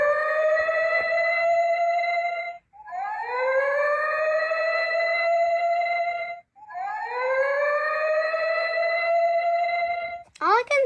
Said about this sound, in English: The last one is a dive bombing raid siren.